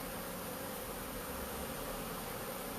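A swarm of honeybees crowds around old comb near a hive entrance, producing a continuous, even, close-up buzzing that holds steady throughout.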